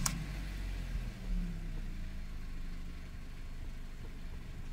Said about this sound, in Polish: Już jest rozgrzaty silnik.